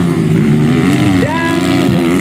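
Motocross motorcycles revving loudly together at the start line of an MX race in Aceh, forming a dense, continuous engine roar with one rising whine partway through, while a commentator talks over it.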